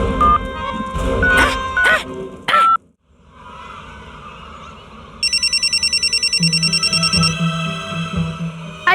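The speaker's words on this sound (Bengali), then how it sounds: "আরে এটা কার ফোন এলো?" A mobile phone ringtone starts partway through as a fast, regular run of bright electronic pulses. It repeats steadily over a low background tone, with no talking, after a few earlier short, sharp cartoon-like sounds and a brief silence.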